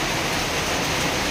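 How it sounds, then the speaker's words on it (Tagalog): Steady, dense rainfall hisses without a break, loud and close, with no voices or other sounds. "Ayan naman yung ulan, oh. Kumikidlat. Yung patak ng ulan."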